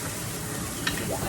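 Onions sizzling in a pan with caramelized garlic for a Vietnamese spicy beef noodle soup, a short, steady hiss of frying with a brief scrape partway through.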